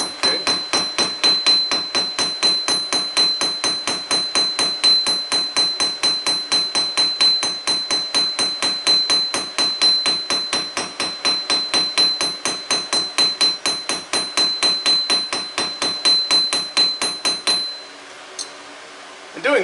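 Steady rapid hammer peening of hot steel on an anvil while forging a taper, dozens of evenly spaced bright ringing blows for most of the stretch, then stopping abruptly into near quiet.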